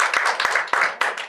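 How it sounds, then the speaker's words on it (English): A live audience at a panel event launching a publication on persons with mental disabilities claps together in a dense, fairly close burst of applause with several sharper individual claps, and no talk over it. "So let's clap for ourselves."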